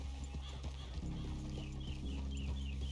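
Horse hooves clip-clop in a steady, brisk rhythm in Red Dead Redemption 2, close and clear over a sustained low musical drone, with a soft voice briefly in the background.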